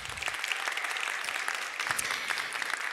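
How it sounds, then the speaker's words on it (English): Audience applause at an indoor side event on faith and the environment, a steady patter of many hands clapping, heard from a moderate distance and fairly faint. "Let's give them an applause."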